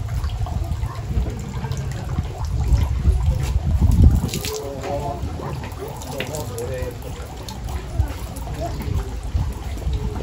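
Water trickles from a ladle at a Shinto shrine purification basin in Kyoto. It is a soft, close dribble with low rumbling noise, and voices can be heard talking nearby.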